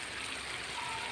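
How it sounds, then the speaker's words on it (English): Canned tuna flakes and their oil are poured from the tin into a pan, giving a short, steady liquid trickle and slosh, close and moderately loud, with no speech. "we are now ready to pour in our century tuna flakes and oil"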